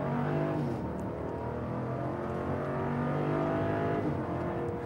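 A 2022 Jeep Grand Wagoneer Series III engine revs and roars loudly and up close, its dense rumble holding steady with slight swells, and no talking over it.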